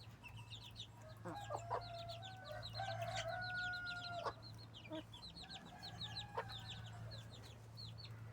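Chickens cluck and a rooster crows, somewhat distant, over a steady low hum.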